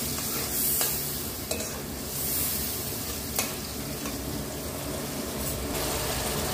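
Masala mixed with tomato ketchup being stirred in a pan for a spicy soya dish, a constant thick frying hiss with occasional sharp spatula scrapes against the pan, close and fairly loud with no talking.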